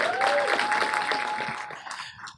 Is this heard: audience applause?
yes